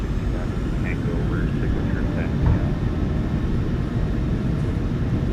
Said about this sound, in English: Takeoff power is set. We are rolling.